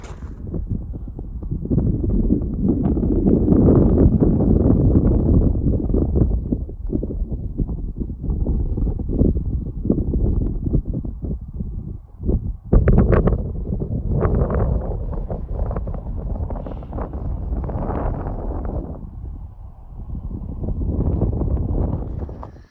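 Strong wind buffeting the microphone near the summit of Sugarloaf Mountain, a ski-resort peak in Maine, with loud continuous low roaring gusts that rise and fall and briefly drop away, and no talking.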